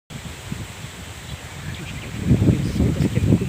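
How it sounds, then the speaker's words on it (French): Strong wind gusting against the microphone on a walk in the woods, a rumbling, buffeting roar that builds louder in the second half, with faint leaf rustle. "Le son parce qu'il y a beaucoup de vent."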